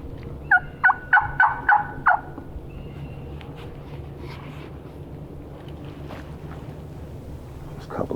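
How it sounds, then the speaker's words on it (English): A wild turkey gobbler gobbles in a rapid run of five loud, close calls during the first two seconds, then goes quiet over a steady outdoor hum, with one faint call near the end. "Looks like it might be a gobbler."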